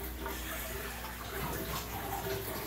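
Water pours steadily through a homemade overflow linking stacked 125-gallon aquariums in an aquaponics setup. A continuous close rushing and splashing wash holds an even level throughout, with no talking.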